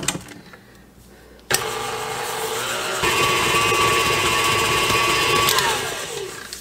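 An electric mixer whirs through butter, salt and sugar, starting with an abrupt click and a steady motor hum that steps up in speed partway, then winds down at the end.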